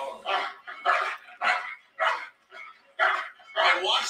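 A dog barks repeatedly in a steady series of about seven sharp, fairly close bursts, with speech also present in the background.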